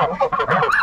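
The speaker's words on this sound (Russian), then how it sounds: "Это гуси." A few loud, close goose honks in quick succession, nasal and wavering, with no talking, from geese beside a backyard swimming pool.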